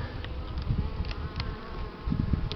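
Buckfast honey bees buzz steadily around an open hive during a spring inspection, a dense close drone of many insects with a few nearer passing bees.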